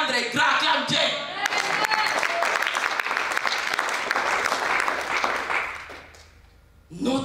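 A congregation bursts into loud, sustained applause and cheering for God, dense clapping that holds steady for several seconds before thinning out, with a voice returning at the very end.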